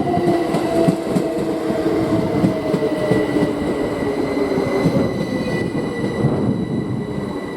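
Class 387 electric train 387145 runs through Didcot Parkway in snow, a steady rolling rumble with rhythmic wheel clatter and a faint high squeal, close and continuous with no talk.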